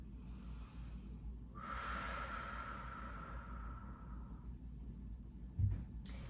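A person holding a stretch during an exercise routine breathes softly through the nose, with one long, airy exhale near the middle and a small snort toward the end, all faint and close.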